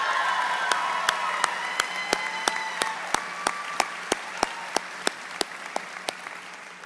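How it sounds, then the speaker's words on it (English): Applause from the audience at a university spring commencement ceremony, a steady wash of clapping with a few sharp, regular claps standing out close by, sustained for several seconds without talk. "Let's give him a great round of applause."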